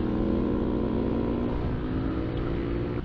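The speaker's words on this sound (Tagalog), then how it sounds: "Bigla ako na-familiarize yung tunog ng motor na to," A motor scooter engine runs steadily close by, its even, droning hum holding for a few seconds with no talking.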